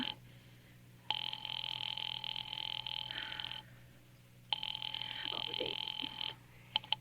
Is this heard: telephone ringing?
yes